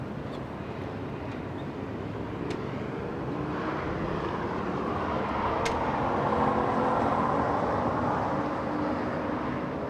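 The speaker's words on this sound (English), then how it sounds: "Lufthansa over the numbers, touching down in just a few moments" A Lufthansa airliner touching down at LAX gives a steady, wide jet roar heard from a distance, swelling slightly near the middle and holding loud to the end with faint wind noise.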